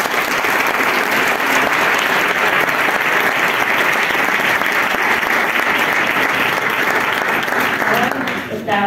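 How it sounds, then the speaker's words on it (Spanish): Sustained, loud applause from an audience at a commerce-sector awards ceremony fills the room steadily for several seconds, dense and even, before tapering off at the end. "os pido un aplauso"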